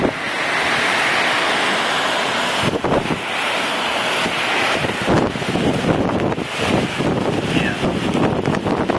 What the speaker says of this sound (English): This wind's got to be 50 at least.